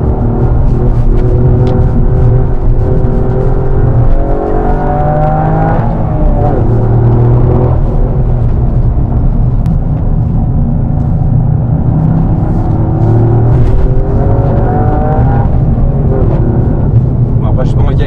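A Toyota GR Yaris engine revs hard on a race circuit, with rev-matched downshifts producing loud, rising and falling pitch sweeps over a constant drone, while people talk over it.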